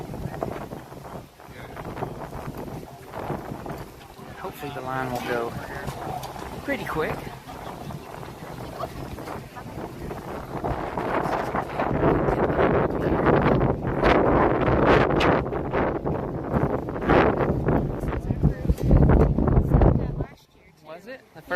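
Strong wind buffets the microphone at EPCOT's opening-day Flower and Garden Festival, a steady rushing roar that grows heavier in the second half, mixed with a busy crowd and people talking close by.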